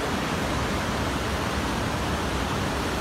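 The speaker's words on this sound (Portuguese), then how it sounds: "Correnteza." The strong current of the Acaraú River rushes steadily past at Sobral, a continuous dense hiss of flowing water close by, with no voices.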